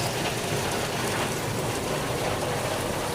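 Steady, heavy rain pours down continuously, a dense hiss of drops striking surfaces with no breaks or voices.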